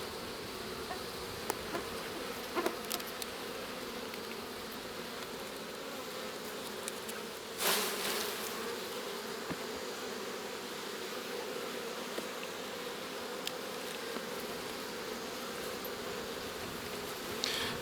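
Honey bees buzzing around a strong, full hive box during a honey harvest, a steady low hum of many insects with occasional louder passes close by.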